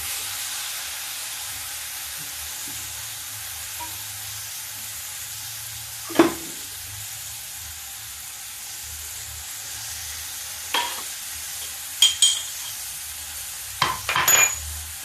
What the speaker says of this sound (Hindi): ये इसी में साग डाल के इसको उलट पलट के तैयार कर लेते हैं